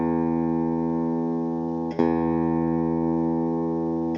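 An electric guitar fitted with a standard bridge saddle rings out in a sustained chord, which is struck again midway for a fresh attack and decays slowly, heard alone.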